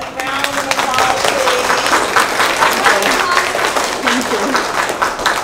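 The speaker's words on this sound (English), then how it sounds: "Everybody give him a round of applause" A commencement audience applauds a school principal and treasurer, the dense clapping running throughout with a voice speaking over it.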